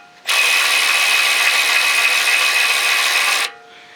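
A power tool tightens the bolts on a sway bar bracket of a 2007-2018 Jeep Wrangler JK, a loud steady whir held for about three seconds and then cut off, with no talking.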